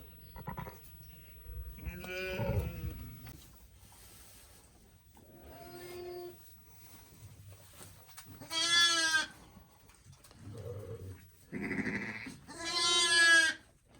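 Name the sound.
ewe sheep bleating over her newborn lambs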